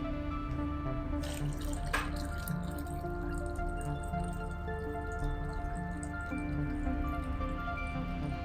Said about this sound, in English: So I'm waiting for my hot water to be boiled so that I can pour it inside